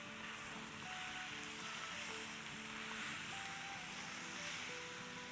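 Mutton sizzling in a karahi pan, a steady, dense frying hiss that runs unbroken throughout with no talking.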